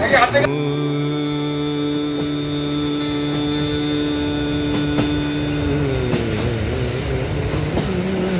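Inside a moving passenger train running late, a steady loud rolling hum with droning tones fills the carriage throughout, with occasional rattles and clicks and no talking.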